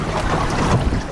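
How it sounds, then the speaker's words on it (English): Wind blowing on a small fishing boat out on the water, a loud rushing gust buffeting the microphone with a bit of water wash underneath, lasting just over a second. "It is windy."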